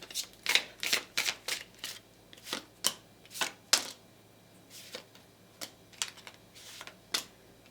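Cards from a large combined oracle deck being shuffled and drawn, a quick run of crisp riffling and slapping bursts, close and fairly loud, with no talking.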